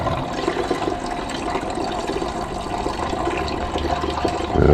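Liquid is poured slowly and steadily during gold recovery from gold-bordered oscillators, making a continuous close watery splashing that swells slightly at the end.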